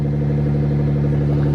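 A Suzuki XL-7 idling just after starting, with its check engine light on for an O2 sensor fault: a steady, even engine hum with a faint rhythmic pulse, close and constant with no talk.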